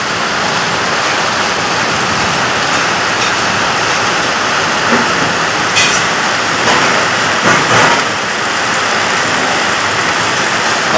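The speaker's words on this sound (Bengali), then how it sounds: "খুব বৃষ্টি হচ্ছে।" Heavy rain pouring in a loud, dense, unbroken roar that stays steady and close from start to finish, with a few brief louder splashes and rattles.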